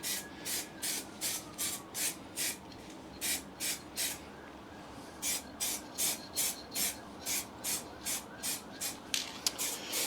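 A spray gun lays a light dusting coat of paint on a Land Rover Series 3 under restoration, in a steady run of short, even hissing bursts, about two each second, with brief gaps between them.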